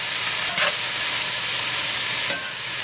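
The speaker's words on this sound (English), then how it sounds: "throw these around in the heat at about a medium-high, maybe 5 minutes or so until the onions and peppers seem like they're getting soft" Onions and peppers sautéing over medium-high heat in a hot pan, a dense, steady close sizzle with a couple of brief stirring scrapes, no voices.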